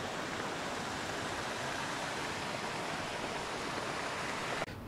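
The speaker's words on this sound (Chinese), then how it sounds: "大雨中的斜江河水流湍急" Swollen river water rushes past in heavy rain at a riverside village, a dense, steady roar that fills the whole stretch without pause.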